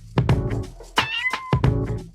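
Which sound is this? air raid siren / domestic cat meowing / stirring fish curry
domestic cat meowing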